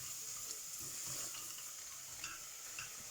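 Chili, ginger and garlic paste being stirred through cluster bean vegetables in a pan, with a soft continuous sizzle and scraping stir strokes close by, no talking.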